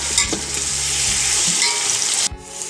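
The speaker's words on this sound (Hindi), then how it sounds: "टमाटरों को भी अच्छी तरह से 1 मिनट तक भून लें" Tomatoes with green chili paste fry in a pan with a loud, bright sizzle and stirring scrapes, then the sizzle cuts off abruptly near the end.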